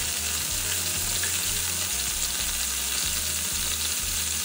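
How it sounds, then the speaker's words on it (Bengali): A crab frying in hot oil in a pan for a Bangladeshi crab roast, producing a loud, continuous, close sizzle with a dense spitting crackle and no voices. "উল্টে অপর পাশও একইভাবে ভেজে নেব।"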